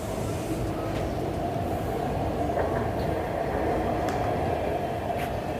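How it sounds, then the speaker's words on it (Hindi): Lahore's Orange Line metro train runs along its track with a steady, loud rumble and faint clicks and squeaks throughout, continuous and close, with no talk. "पहले देखते हैं कैसी ऑरेंज लाइन मेट्रो।"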